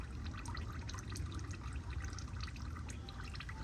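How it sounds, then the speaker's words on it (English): Transmission fluid drips from the pan of a 2016 Toyota RAV4 XLE during a fluid, filter and gasket change, making a faint, steady trickling and dripping with no one talking. "So it starts dripping over here."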